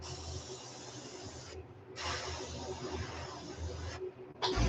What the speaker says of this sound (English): I'm just kind of spraying lightly over top of the area where I did the orange texture